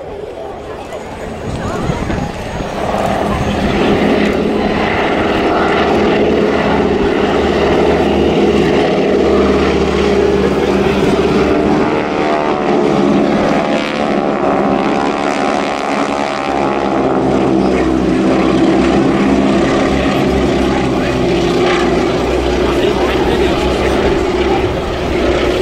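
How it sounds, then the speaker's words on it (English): Three orange biplanes of the Breitling Wingwalkers display at RIAT 2016 Fairford give a rasping, noisy propeller engine note that fills the whole stretch, loud and sustained, swelling and shifting as they pass, under a voice. "three beautifully painted orange biplanes, distinctive rasping noisy engine note"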